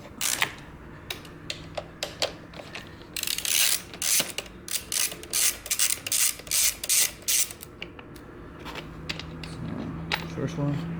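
Ratcheting clicks from a 10mm socket wrench backing out a bolt on a Kawasaki Vulcan S motorcycle, sounding in quick bursts of close, crisp clicks with short pauses between strokes, over a quiet room hum.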